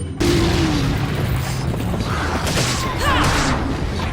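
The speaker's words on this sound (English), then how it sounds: "this is actually a prime opportunity to use an incendiary grenade" In the Mercenaries mode of Resident Evil 4, an incendiary grenade bursts with a sudden loud boom that rolls into a sustained roaring blaze, with faint game sound effects layered over it.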